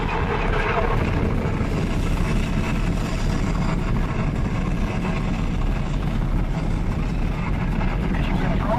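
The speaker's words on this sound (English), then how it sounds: "We have main engine start." A loud, continuous low rocket main-engine rumble fills the Epcot Mission: Space launch simulation ride, steady and dense throughout, with voices mixed into the roar.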